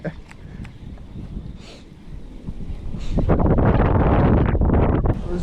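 Strong wind buffets the microphone on a lake during spring fishing in Wisconsin, rumbling low and gusting louder in the second half, with a few faint knocks early on.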